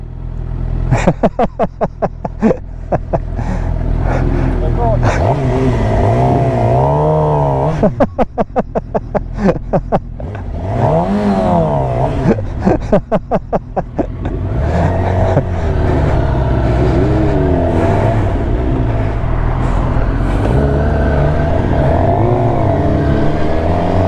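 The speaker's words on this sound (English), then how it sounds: "You do a burnout." A motorcycle doing a burnout, the engine revving hard again and again with rising and falling pitch sweeps and stuttering bursts, loud and close over about twenty seconds.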